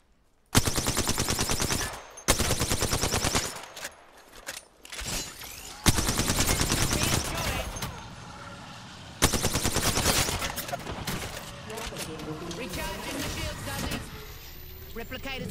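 Rapid automatic gunfire in a battle royale shooter, loud close bursts in several volleys separated by short pauses, with someone talking between and over the shots.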